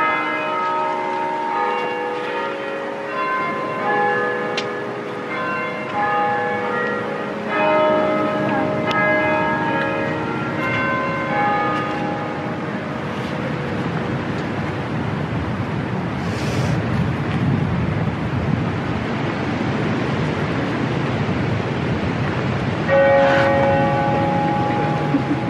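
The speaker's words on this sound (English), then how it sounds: "We're now waiting for the bells." Church bells ring at three o'clock, overlapping tolls layering into a loud, sustained ringing that continues throughout with a low rumbling background.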